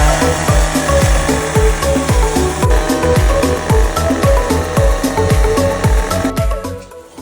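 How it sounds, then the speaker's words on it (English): A small grinder cuts a pilot groove into a basement wall for a window enlargement, giving a loud, continuous harsh whine with a rapid pulsing beat that runs nearly the whole time before trailing off at the end. "One of our expert technicians, Tyson, cutting the pilot groove for the ring saw. This is done with a much smaller grinder"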